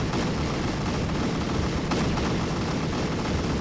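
Mounted manual cannons fire in Garry's Mod with the ACF weapons addon, a dense, steady barrage of loud gunfire with no pauses, sounding close and continuous.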